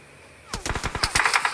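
Rapid burst of S12K shotgun blasts in the BGMI mobile game, about eight loud, sharp shots in quick succession after a brief quiet lead-in.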